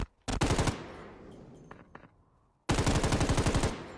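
Rapid automatic gunfire during a competitive multiplayer shooter match, two loud close bursts of fast shots with scattered single shots between them.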